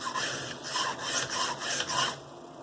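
Rhythmic back-and-forth rasping of a CPM S110V steel knife blade scraping across a sharpening stone, about seven strokes, close and steady.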